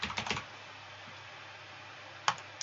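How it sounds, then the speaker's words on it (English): Typing on a computer keyboard, a quick cluster of key clicks at the start and two more isolated taps near the end, close and fairly quiet over a faint background hum. "I'm just going to type in branch"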